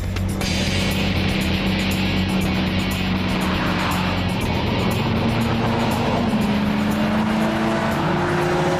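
A car driven hard on a racetrack, its engine loud and close from inside, droning steadily while revs rise and fall through gear changes, with a faint tire squeal.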